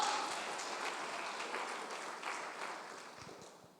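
Applause from a church congregation, a soft, steady wash of many hands clapping at a distance that tapers off slowly.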